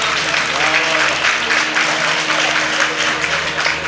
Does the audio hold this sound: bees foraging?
no